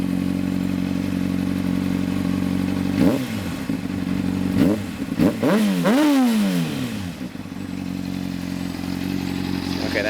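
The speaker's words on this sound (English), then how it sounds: "Hindle exhaust" A 2003 Honda CBR600RR motorcycle with a Hindle aftermarket exhaust idles with a deep, loud exhaust burble, then revs sharply several times in rising and falling bursts before settling back to idle.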